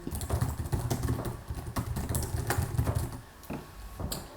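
Text being typed on a computer keyboard, a quick continuous patter of close keystrokes that eases off toward the end.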